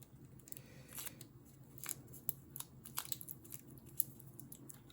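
Tape being torn and handled at an electronics workbench, faint crinkly rips and small crackles scattered over a quiet background.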